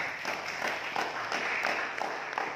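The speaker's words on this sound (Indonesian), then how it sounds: "Tepuk tangan dulu." Audience applause at a Pemuda Katolik gathering in NTT: steady, even clapping from many hands that fills the room for a few seconds, with no voice over it.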